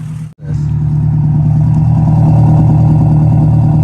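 An Acura Integra engine idles steadily with a low, even rumble and a faint mechanical clatter, close by, after a brief cut near the start.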